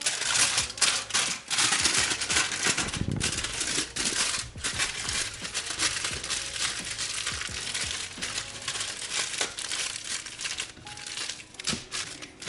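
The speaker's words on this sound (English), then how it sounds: "And then one layer of the foil just to reinforce it." A single layer of foil crinkles and rustles close by as it is wrapped around paper-wrapped seitan before steaming, a steady dense crackling with brief louder crumples and no voices.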